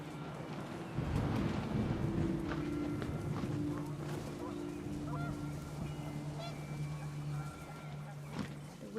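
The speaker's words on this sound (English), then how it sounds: "The wind picked up, and panicked geese appeared and quickly went." Geese honk in a panicked flock over gusting wind in the video game What Remains of Edith Finch, the calls loud and near for several seconds, with a steady low drone beneath.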